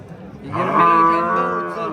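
A cow at a livestock market in Kattaqo'rg'on gives one long, loud, sustained moo starting about half a second in and holding steady to the end, with faint market noise beneath.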